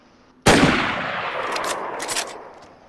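A single loud sniper rifle shot in DayZ on PS4, fired in open fields, with a sharp crack followed by a long rolling echo that fades over about two seconds and no talk during the shot.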